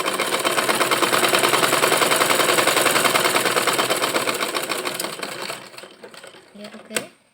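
A sewing machine stitches a dart in a skirt with a fast, loud mechanical rattle. The whirring slows and stops near the end, followed by a brief clunk of the presser foot.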